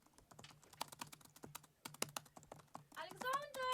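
Rapid computer keyboard typing inside a song recording, a fast run of sharp clicks over a low background, giving way near the end to a brighter tonal sound.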